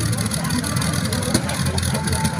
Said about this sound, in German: Ein ehemaliger Dieselmotor, dieser Traktor.